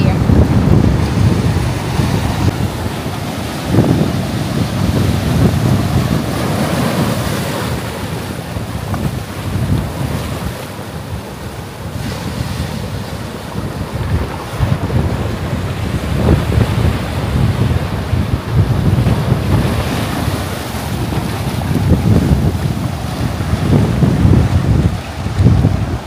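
Sea waves and wind on Taiwan's north coast form a constant loud rushing wash with gusts buffeting the microphone and swells surging at intervals.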